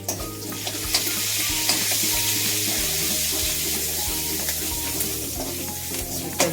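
Mustard seeds sizzling in hot oil on a low gas flame are stirred in a pan during eggplant bharta preparation, giving continuous frying hiss with repeated spoon scrapes and clinks close by.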